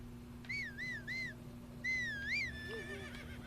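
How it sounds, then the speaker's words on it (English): A horse in the video game Zelda Breath of the Wild whinnies over a steady low game hum: two wavering, whistle-like neighs, the second longer and trailing off, fairly faint and without talk. "Actually, here comes my horse,"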